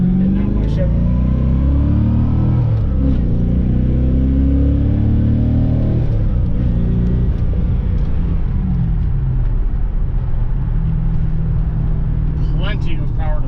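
A 1990 Chevy Corvette ZR1 with its Lotus-built overhead-cam LT5 engine pulls hard on the road, a deep loud engine rumble rising and shifting through gears, with someone talking over the drone inside the cabin.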